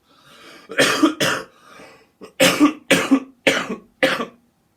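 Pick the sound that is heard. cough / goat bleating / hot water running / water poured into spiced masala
cough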